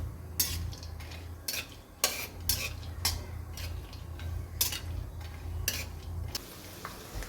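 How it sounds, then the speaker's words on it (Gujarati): Almonds and cashews roasting in hot ghee are stirred in a pan, with repeated metallic clinks and scrapes of a spoon over a low hum and faint sizzle, and no talk. "ઘી ગરમ થઈ ગયું તો આપણે બદામ અને કાજુ થોડા શેકી લઈએ પહેલાં."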